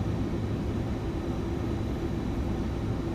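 iniBuilds Airbus A330-200 in a flight simulator on its takeoff roll, a steady, loud broadband engine roar with low rumble that holds even throughout, no voices present.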